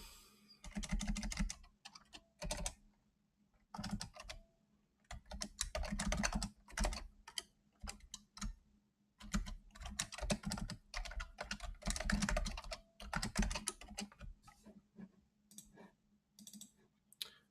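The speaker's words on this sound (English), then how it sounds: "I'm very good at typing today." Computer keyboard typing during a Haskell programming session, bursts of rapid clicking keystrokes separated by brief pauses, close and steady with no voice.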